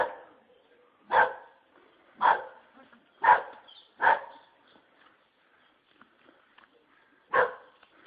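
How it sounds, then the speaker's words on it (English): Dog barking outdoors in a garden during a gathering, five loud sharp barks spaced about a second apart, then a pause before a final bark, with faint background sounds between. "They brought a dog."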